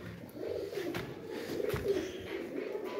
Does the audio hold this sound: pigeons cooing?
yes